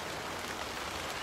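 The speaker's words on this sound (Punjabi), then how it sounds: "ਮੀਂਹ ਦੀ ਬਹੁਤ ਜ਼ਿਆਦਾ ਬਾਰਿਸ਼ ਆ ਜੀ" Heavy rain falls steadily on surfaces, a dense, even hiss of drops with no voices heard.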